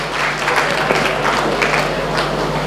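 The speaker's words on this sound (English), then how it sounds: "So let's have a round of applause for Mrs." Audience applause at a 2017 Umeed corporate stage event, a steady dense wash of clapping held at even loudness throughout, with a faint crowd murmur beneath.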